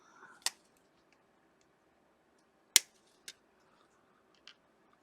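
Sharp snips of hobby clippers cutting Warhammer 40K Leagues of Votann model parts from a plastic sprue: four crisp, isolated clicks spaced unevenly across a quiet room, close to the microphone.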